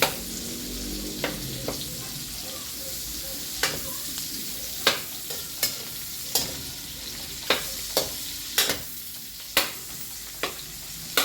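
Garlic sizzles in hot oil in a pan for Filipino pinakbet, a steady frying hiss broken by sharp scrapes and clacks of a stirring utensil every second or so, close and clear with no talk.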